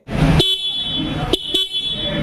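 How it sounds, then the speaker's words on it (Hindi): A loud single horn on a 2023 Bajaj Platina 110 motorcycle honks in short sharp toots, three quick blasts spaced unevenly over a steady engine hum. "इस बाइक में आपको सिंगल हॉर्न मिलता है जो की लाउड है"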